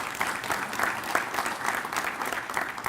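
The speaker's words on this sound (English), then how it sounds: "Let's give Tammy a big round of applause." A roomful of people at a Consular Association of Washington gathering give a steady round of applause, a dense, even wash of clapping heard from some distance that holds throughout.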